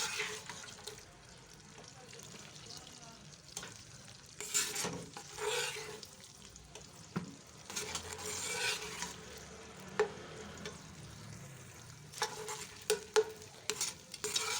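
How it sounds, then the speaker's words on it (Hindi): Onion fries in hot oil in a home kitchen, a soft sizzle broken by intermittent stirring and scraping in a pan, fairly quiet and close, with a voice talking at times. "ये देखिए जैसे ही ऑयल गर्म हो गया है, अब इसमें मैं प्याज डाल दूँगी।"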